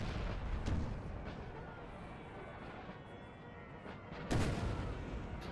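Cannons of Napoleonic-era artillery in the battle game Napoleon: Total War boom twice, several seconds apart, with deep distant thuds over a continuous battlefield din, while a voice talks underneath.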